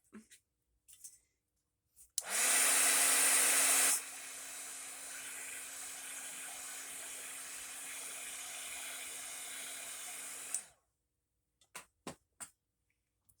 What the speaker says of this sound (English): you can take your heat gun and heat it for just a little bit